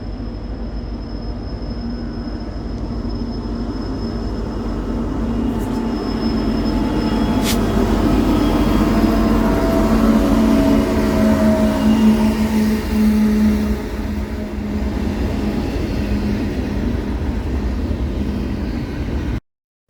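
A Norfolk Southern freight train approaches slowly and passes at a control point in Alabama, a loud sustained rumble of locomotives and rolling cars building and holding for about twenty seconds, with a brief high horn-like tone early on.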